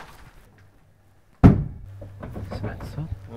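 A cargo airplane door is tried, giving one sharp, loud thunk after a quiet moment, followed by a low hum and people talking nearby.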